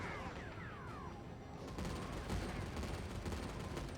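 Dense, continuous video game gunfire, a sustained barrage of rapid overlapping shots and booms that grows heavier partway through, with no pauses.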